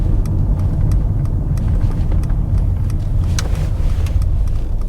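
A Mercedes C250d driving on the road, with a steady low engine and tyre rumble from inside the cabin, constant and fairly loud with a few light clicks and knocks.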